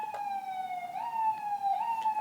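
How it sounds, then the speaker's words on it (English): Emergency vehicle sirens in a New York City street, a steady wailing tone that rises and falls gently and persists throughout, moderately distant and fairly quiet over light traffic hum. "New York sirens, please forgive them."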